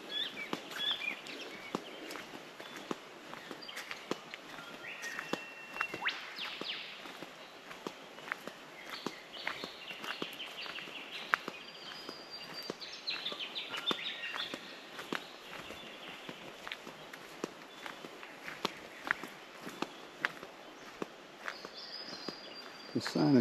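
Flip-flops slap in a steady walking rhythm along a bush trail at Rollasons Falls, Mt Buffalo, heard close and continuous over faint birdsong.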